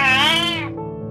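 A pet cat gives a single drawn-out, rising then falling meow about a second long, loud and close, with no talk.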